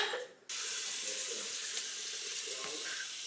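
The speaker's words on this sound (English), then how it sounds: "Then I forgot to put water in and start heating up." Tap water runs steadily into a cooking pot in a kitchen, a close, constant hiss after a brief quiet start, with no talking.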